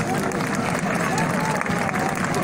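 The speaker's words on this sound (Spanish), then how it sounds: "Un aplauso para ellos," A crowd applauds the Three Kings at an outdoor Day of the Kings celebration in Apetatitlán, with dense, steady clapping and murmuring voices filling the air throughout.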